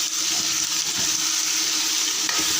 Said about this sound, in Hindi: तो इसकी भुनाई करेंगे हम अच्छी तरह से, देख सकते हैं।